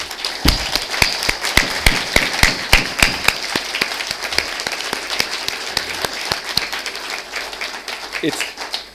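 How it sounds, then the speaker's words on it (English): Audience members at a Magic Bus CEO's closing speech in 2014 clap, with sharp, distinct hand claps in a fairly regular rhythm over a softer bed of applause, voices faintly audible beneath. "need to receive a round of applause"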